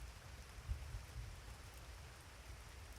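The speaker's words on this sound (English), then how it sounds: "The rain was coming down even harder now." Heavy rain pours steadily as a dense, even hiss, with a faint low rumble beneath and no voices.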